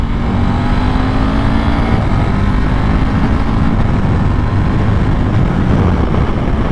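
A KTM RC8R motorcycle engine with a quickshifter drones loudly and continuously up close while shifting gears, its pitch shifting slightly as it runs, with no voices over it.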